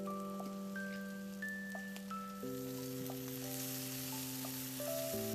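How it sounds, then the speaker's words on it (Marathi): Washed shell-on prawns sizzle steadily in a hot pan for prawn gravy, a continuous crackling hiss with faint tonal hum in the background and no talking. "आता आपण ह्याच्यामध्ये आपण धुवून घेतलेली कोलंबी टाकूयात."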